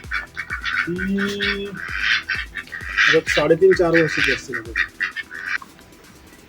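Nasal honking and quacking calls from ducks close by, mixed with a person talking over them.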